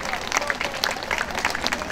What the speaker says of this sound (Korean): 여러분 큰 박수 다시 한번 부탁드립니다.